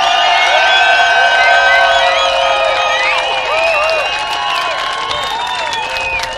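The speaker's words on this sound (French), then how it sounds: "J'aimerais ça qu'on commence avec une belle main d'applaudissements pour souligner notre courage d'être ici aujourd'hui." A protest crowd in Montreal, Quebec, claps and cheers loudly, with whoops and whistles rising over dense applause that fades slightly toward the end.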